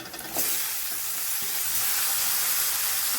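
Tomatoes dropped into a hot pan for a gram-flour kurma, a loud steady sizzle that flares up after a short clatter at the start and then keeps hissing evenly with no talking.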